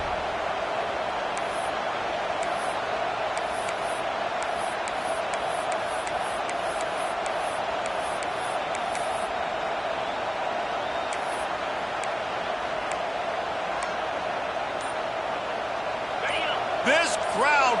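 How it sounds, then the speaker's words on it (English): A packed football stadium crowd roars at a steady, loud level for a fourth down stop. The noise is a continuous wash with sharp whistle-like accents, and it swells near the end. "This crowd busting the decibel meter and trying to will a fourth down stop"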